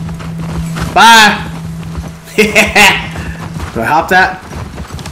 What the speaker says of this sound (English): The horses were leaving without us.